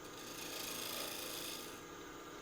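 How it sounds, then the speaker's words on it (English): Shear scraping on a handmade wooden mortar to smooth away tool marks, a soft, continuous rasping hiss that swells and then eases over a couple of seconds, close and fairly quiet. "Need to just do a little bit of a shear scrape here. Smooth up some tool marks."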